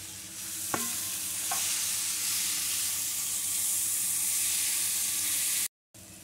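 Fried potatoes stirred into a pan of sizzling masala, a steady broadband frying hiss with a couple of sharp scraping knocks of the spoon early on, then continuous sizzle before a brief drop to silence.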